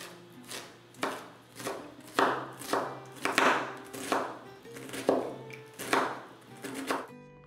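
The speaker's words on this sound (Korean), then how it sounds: "양파 한 개를 다져줍니다" A knife chops an onion on a board in steady, evenly spaced strokes, about ten sharp close knocks with brief scraping between them, heard alone without talk.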